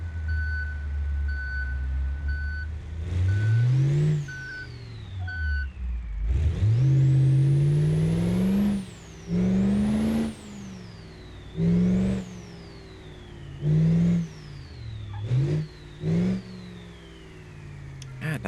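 Truck in the BeamNG driving game, its engine rising and falling through several rev surges while a steady electronic reversing beeper tone runs early on, with a voice talking over parts of it.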